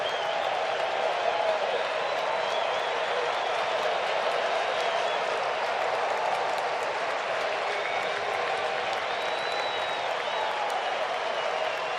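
A baseball stadium crowd of 34,000 at a Cubs versus Braves game cheers and applauds in a dense, steady wash that holds evenly throughout, distant and continuous.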